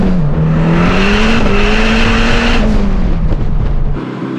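Street legal go-kart engine with lots of torque driving hard, a loud close roar with pitch rising and easing as it accelerates, alone with no talk.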